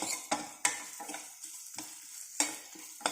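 Crushed pepper and garlic go into a pan for an onion-tomato rasam and are stirred, giving a faint sizzle with sharp, separate spoon scrapes at irregular intervals.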